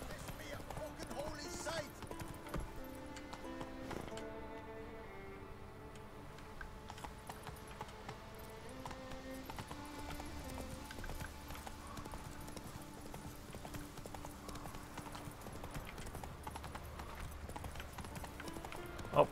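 The horse Roach gallops along a road in The Witcher 3, its hooves clip-clopping in a rhythmic run, faint and continuous beneath game music and ambience.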